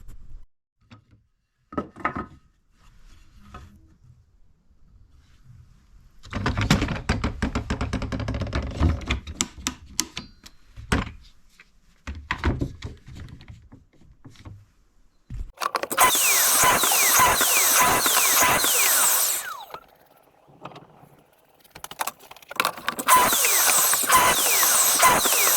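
A power tool cuts wooden boards for a bird table in loud bursts of several seconds each, separated by quieter pauses with clattering handling noises, and no talking.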